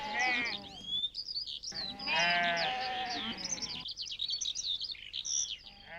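Sheep herded by Gaddi shepherds in the Himachal hills bleat repeatedly, several animals calling nearby in overlapping bursts, with birds chirping in the background and a voice narrating over them.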